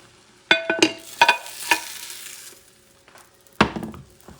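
A Spanish cod omelette is flipped from the pan onto a plate, giving a few sharp clatters and knocks over a faint sizzle, then a final clunk after a short pause.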